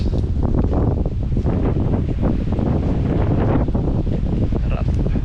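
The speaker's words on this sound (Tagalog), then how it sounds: "At mahangin." Strong wind sweeps along a shore, producing constant loud rumbling buffeting on the microphone with a faint wash of water underneath and no clear talking.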